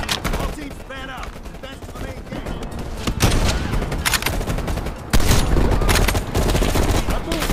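Gunfire in the Call of Duty Cold War campaign: rapid automatic bursts and loud volleys filling the scene, growing heavier toward the end, with shouted voices mixed in.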